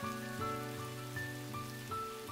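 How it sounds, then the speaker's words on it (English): Steady rain falls in an animated manga dub scene, a soft, even patter that carries on beneath a quiet tonal music backing, with no voices. "It's raining, and I brought a travel umbrella."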